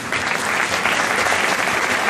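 A crowd at an e-commerce awards evening applauds award finalists, a loud, dense burst of clapping from many hands filling the whole short span.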